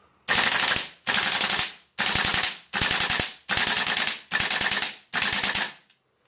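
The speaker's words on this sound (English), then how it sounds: "I'm just going to do one more mag on full auto because we did get that stoppage" A GHK M4 airsoft rifle fitted with a Spear Arms steel bolt carrier fires on full auto in seven loud, close bursts of rapid clattering shots, each a little under a second long and separated by brief pauses, with no voices.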